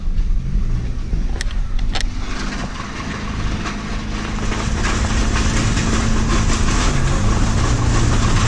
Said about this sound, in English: You can hear the exhaust shield scraping up the side.